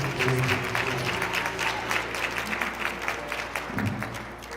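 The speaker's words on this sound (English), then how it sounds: "Could we please give a round of applause to my friend" An award ceremony audience applauds a guest, steady broad clapping from the room that carries through and tapers slightly near the end.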